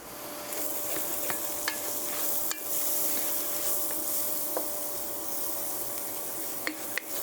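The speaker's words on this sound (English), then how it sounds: "we're going to give that a stir" Kashmiri Korma spice mix is stirred into a simmering chilli cumin dal, giving a steady bubbling sizzle punctuated by scattered scrapes and clinks of a spoon against the pot, close and moderately loud.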